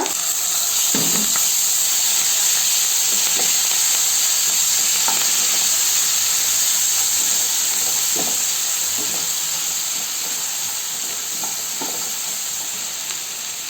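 Slit green chillies and onion paste fry loudly in hot oil in a pan, a strong constant sizzle up close with occasional soft knocks of stirring and no speech.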